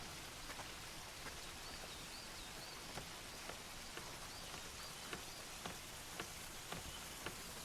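Steady rushing water, dense and even, with scattered droplet-like ticks spread through it; no voices.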